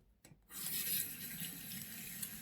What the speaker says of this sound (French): je rince le petit pinceau